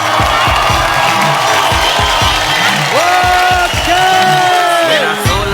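A television studio audience cheers and claps for a superstar couple's entrance, loud and close, with whoops rising over a driving musical beat and swelling horn-like tones toward the end.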